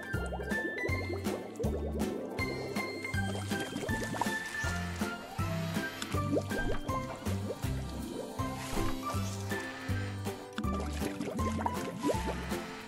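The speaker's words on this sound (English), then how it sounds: "And now the Super Soaker water gun battle is on." A Super Soaker water gun in an animated scene, spraying and splashing water with liquid drips and squishes over steady cartoon music throughout.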